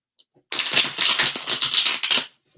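Tarot cards shuffled by hand in a quick burst of rapid riffling flutters, close and crisp, lasting about two seconds between short pauses.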